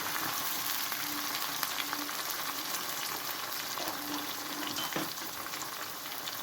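Fish curry ingredients fry in a pan over a low flame, giving a steady, fairly soft sizzle with occasional stirring scrapes, heard close with no talking.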